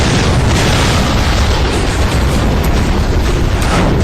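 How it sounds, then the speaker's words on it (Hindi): A ground combat vehicle destroying an enemy tank produces a continuous, loud explosive roar with dense rumbling noise that fills the whole stretch without a break or any voices. "जिसके बाद इसने दुश्मन के टैंक को सेकंड से पहले तबाह कर दिया।"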